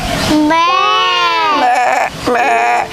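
A human voice imitates a sheep bleating loudly and close by, two drawn-out wavering baa calls, the first long and the second shorter, in a children's storytelling setting.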